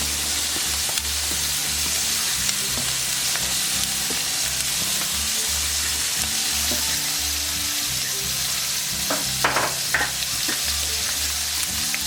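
Rice and minced garlic sizzle loudly in a hot wok while being stir-fried for homemade orange chicken, with a continuous frying hiss broken by scraping, tossing strokes of the spatula.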